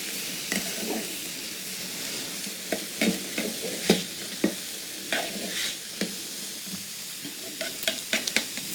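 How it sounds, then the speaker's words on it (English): A spoon scrapes and swirls through vegan tomato soup as vegetable broth is stirred in, with repeated close stirring strokes over a soft, constant simmering sizzle. "Go ahead and stir this in."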